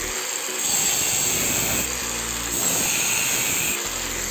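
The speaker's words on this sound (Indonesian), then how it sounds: "kemudian kita akan potong sedikit menggunakan gerinda tangan seperti ini" A hand angle grinder cuts into light steel, giving a continuous high, loud whine with a few brief dips in load as the disc bites, close by with no speech.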